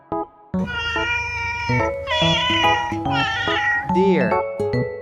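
A domestic cat meows several times in a row over a steady musical background, with drawn-out, wavering cries that are close and clear.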